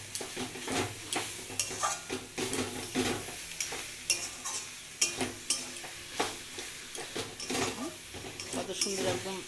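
Khesari greens and bori are stirred together in a pan, giving repeated metal spatula scrapes and clinks over a soft sizzle in an uneven rhythm, close and fairly quiet.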